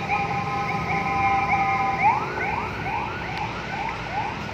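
An ambulance siren wails in repeating rising-and-falling sweeps, moderately distant over a steady hum of afternoon traffic near Taman Pancasila, Karanganyar, Indonesia.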